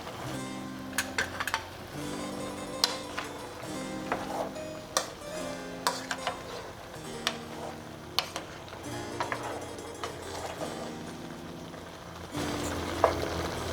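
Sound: stirring boiling aviyal in a pot

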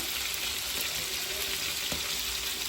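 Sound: tomatoes added to hot oil, frying

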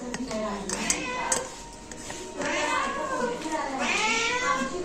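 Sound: kitten meowing

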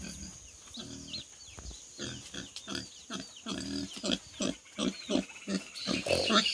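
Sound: pigs grunting

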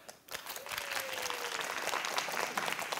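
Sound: audience applause

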